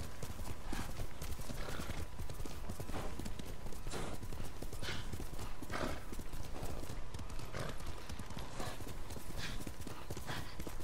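Steady clip-clop of horse hooves in an even trotting rhythm in Ghost of Tsushima, close and continuous, with a faint whinny and soft background ambience.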